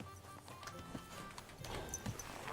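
Horse hooves clip-clop in the video game Kingdom Come Deliverance 2, a quiet, brief run of soft rhythmic steps over faint background ambience.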